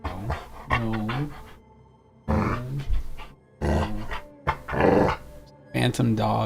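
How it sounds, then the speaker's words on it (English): The phantom dog in the video game Banishers: Ghosts of New Eden growls and pants in repeated close bursts, tangled with a voice talking over the sounds. "Phantom dog keeps coming in and out of existence."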